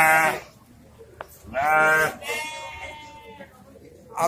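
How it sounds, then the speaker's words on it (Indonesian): Fat-tailed sheep at a livestock market give several loud, wavering bleats close by, with short pauses between calls, while a person talks nearby. "Ini kibas ekor gemuk. Ini insya Allah domba sehat guys ya nih."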